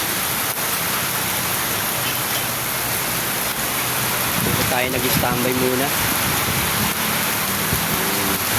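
Heavy rain pours steadily and loudly on surfaces while a motorcyclist waits out the downpour; someone talks over the constant hiss, with some harmonic vehicle or engine tones briefly near the middle and end.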